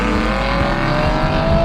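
A Rolls Royce fitted with a rooftop tent box drives along under steady combustion-engine power, a continuous loud drone with rising harmonics as it pulls, no talk.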